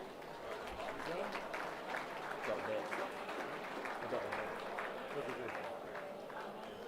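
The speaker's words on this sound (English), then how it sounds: "a big round of applause for all our reserves winners tonight" A crowd applauds steadily at a football netball league awards night, a dense wash of clapping hands filling the room at a constant level.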